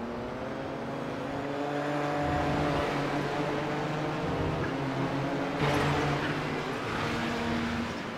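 Race car engines in a Kamel GT Championship race at Twin Ring Motegi, a steady droning roar of several cars with a whining tone, one passing closer with a brief surge, under commentary talk.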